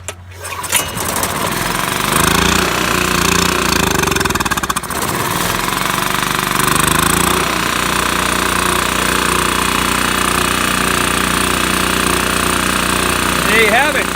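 Small petrol generator running on full choke, a loud steady close-up engine drone after a sharp start, holding a constant uneven hum throughout, with a faint whine near the end.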